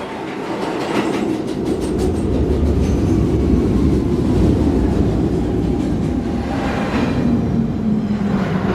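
R262 subway train on the MTA 1 line in a simulation game, a steady loud rumble of wheels and motors with rhythmic clickety-clack over rail joints and a faint squeal near the end, continuous throughout without speech.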